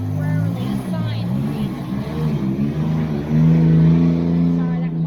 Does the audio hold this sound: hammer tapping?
no